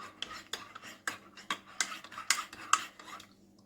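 A spoon stirs tin milk into tea in a Jaffna-style brew, giving a rapid series of bright metallic clinks and scrapes against the cup, close and clear with no talking.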